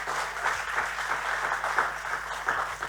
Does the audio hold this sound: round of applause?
yes